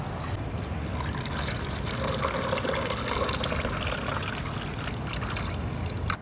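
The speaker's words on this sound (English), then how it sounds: "You pour the water in." Water is poured into a countertop ice maker, a steady close trickling and splashing that lasts a few seconds with no talk over it.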